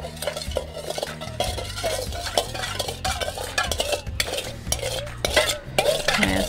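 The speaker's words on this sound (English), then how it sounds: "you're going to stir your mixture together" A spoon stirs a sugar mixture in a bowl, scraping and clinking against the sides in a steady, close rhythm with soft taps, accompanied by background music.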